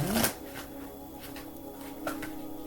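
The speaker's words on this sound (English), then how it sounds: "Now that I've shuffled them up a little more." Deck of oracle cards being shuffled by hand, a quiet close riffle of papery flutters and soft snaps, with a brief louder burst at the start.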